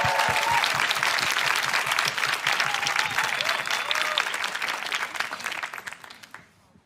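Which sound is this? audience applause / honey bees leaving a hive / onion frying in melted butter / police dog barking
audience applause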